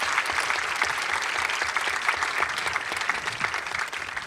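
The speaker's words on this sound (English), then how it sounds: "let's give a round of applause to our panelists" An audience at a biodiversity symposium applauds its panelists with sustained, dense clapping that stays steady and fairly loud throughout, with no speech over it.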